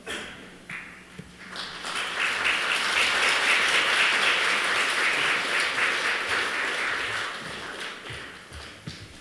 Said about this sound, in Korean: 나오실 때 또 격려와 응원의 박수로 환영해 주시기 바랍니다.